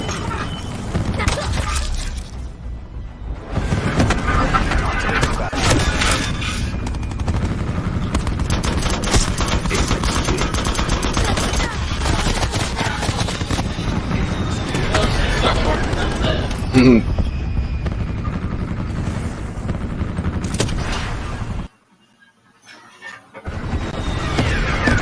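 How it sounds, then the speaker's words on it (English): Call of Duty Black Ops gameplay with an attack helicopter: dense rattling bursts of automatic gunfire and explosions dominate, loud and nearly continuous, with game voices mixed in and a brief drop near the end. "Attack helicopter."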